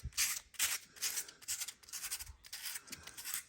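Sandpaper wrapped around a socket rubbed back and forth inside the U-joint yoke of a 1966 Corvair driveshaft, a close, dry rasping in quick repeated strokes with brief gaps between them.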